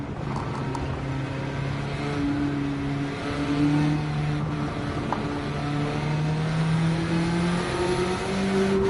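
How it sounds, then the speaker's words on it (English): A Fiat 500 races in Gran Turismo 7 with an engine that holds a high, steady drone, its pitch rising and shifting through gear changes across the whole stretch. "I'm driving a Fiat 500, mate, and I'm beating a field full of Tomahawks."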